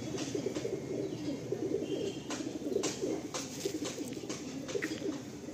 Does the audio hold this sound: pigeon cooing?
yes